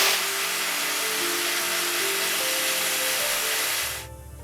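A dull bandsaw blade scratches against metal during sword handle making, a steady loud hissing grind that runs for about four seconds before cutting off abruptly, leaving a low hum.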